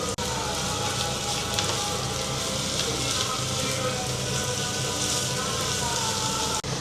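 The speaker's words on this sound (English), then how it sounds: "I'm frying veggies and adding meat." Vegetables and meat frying in a pan, with pepper, garlic, mashed tomato and cilantro among the ingredients, giving a steady, dense sizzle that runs evenly throughout at close range with no talk.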